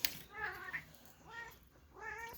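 A pet cat, a cat named Rookie, meows three times in quick succession, short plaintive mews close by in a quiet indoor room.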